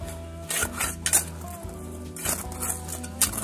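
A metal spoon scraping and digging into garden soil in a rural garden, heard as repeated close scrapes and gritty taps in an irregular rhythm, with a low hum beneath and no talking.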